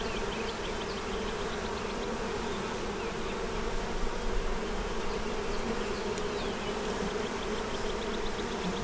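Honey bees festoon on foundation inside an open hive, a dense, continuous close-up buzzing drone with scattered higher whines from individual bees flying past.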